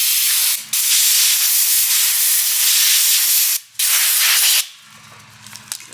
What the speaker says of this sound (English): good time to just blow the grease out of it